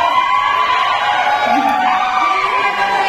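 An audience at a live performance keeps up dense, continuous shouting and cheering, a loud crowd roar with no breaks.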